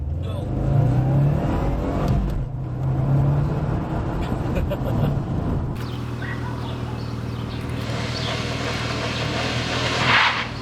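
A 2013 Subaru WRX launches from a standstill on an empty road with traction control on, its engine note climbing loudly and steadily as the car pulls away, with a brief voice near the start.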